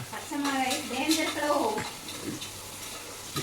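Onion, tomato and green chili sizzle and get stirred in a hot pan, with a soft frying hiss and scraping, while a person speaks over the cooking.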